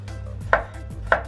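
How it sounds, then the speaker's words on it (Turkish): A knife finely chopping garlic on a board, two sharp, crisp chops about half a second apart, close and clear over a steady low kitchen hum. "Sarımsaklarımı ince ince kıyıyorum."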